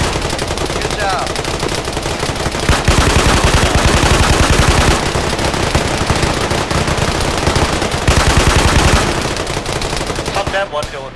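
Sustained automatic gunfire from a tactical shooter video game, loud dense rapid bursts and single shots layered over each other for the whole stretch, with brief lulls and a few faint voices under the shooting.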